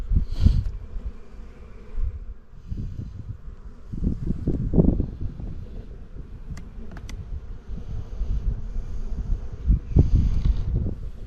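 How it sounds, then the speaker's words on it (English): Honeybees buzz in a hive box full of bees coming out of winter, a steady low drone close by, interrupted by loud wind buffeting and rustling bursts on the microphone. "We got a good box full of bees here."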